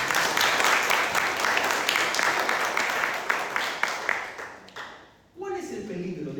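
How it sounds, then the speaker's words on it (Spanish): Church congregation applauding the Lord, a dense steady wash of clapping that fades out near the end as a voice starts talking. "Denle un aplauso al Señor."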